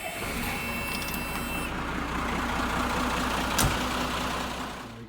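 A steady, rumbling diesel idle from an overland truck just started up and left to warm, holding an even low drone throughout.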